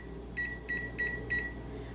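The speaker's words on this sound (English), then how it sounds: "I'm going to set a timer." A kitchen timer being set gives four short, bright electronic beeps in an even rhythm, fairly quiet over a low steady background hum, with no talking.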